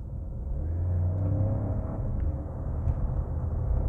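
DS3 Crossback small SUV with an automatic gearbox accelerating, a low muffled engine rumble from inside the cabin that swells and eases as gears change, fairly quiet and steady.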